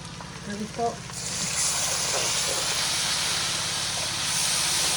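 Chicken frying in a pot for chicken pulao gives a steady, hissing sizzle that swells after a brief quieter start, close and continuous, with a low background hum.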